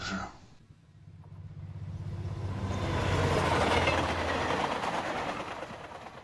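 A train rumbles along the rails, building to a loud roar of wheels and clatter before easing slightly, continuous and near.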